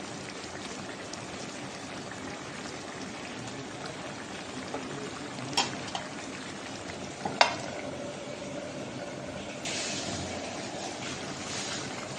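An egg cooks in a ridge gourd curry, giving a soft, continuous sizzle and bubble with a couple of brief utensil knocks and a brighter hiss near the end, all fairly quiet and without talking.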